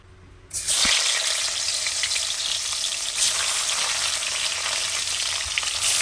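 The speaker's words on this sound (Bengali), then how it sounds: "একে একে আমি মাছগুলো দিয়ে দেবো" Fish slid into hot oil in a wok, setting off a sudden loud, close sizzle that stays dense and steady after a moment of quiet, with a small splash or tap partway through.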